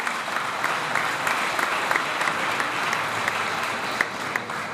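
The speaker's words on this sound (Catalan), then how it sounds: "fins i tot m'aplaudiu educadament" Polite applause from a crowd gathered at a church tribute event, an even, continuous patter of many hands clapping at moderate loudness for nearly five seconds.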